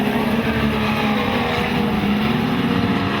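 Speedcars roar down the back straightaway at Maryborough Speedway in a Queensland title race, a loud, sustained droning engine howl with steady pitch filling the whole stretch, no voices heard.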